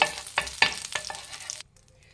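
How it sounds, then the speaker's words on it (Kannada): Butter sizzling as it melts in a pan for a butter garlic egg sandwich, a busy crackling hiss with a few sharper spoon scrapes, close and fairly loud, cutting off abruptly into near silence. "ಈಗ ಮತ್ತೊಮ್ಮೆ ಅದೇ ಪ್ಯಾನ್ಗೆ 2 ಟೇಬಲ್ ಸ್ಪೂನ್ ಆಗೋಷ್ಟು ಬಟರ್ ಹಾಕ್ತಾ ಇದ್ದೀನಿ"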